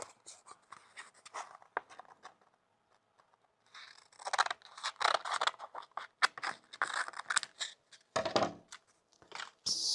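Scissors cutting material while a Yamaha R 125 motorcycle is being painted, quiet close snips and scratchy rustles in irregular bursts with brief gaps between them.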